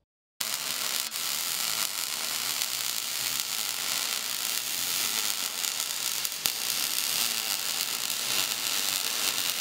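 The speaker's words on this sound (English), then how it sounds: "we are going to turn up the machine to promote the wire burning off hotter in this joint because it's sticking out longer so we can get better penetration in the weld" MIG welding wire burning off hot at a roll cage tube joint, with the machine turned up and the wire stuck out longer; a steady, close, crackling sizzle runs unbroken for the whole stretch with no talking.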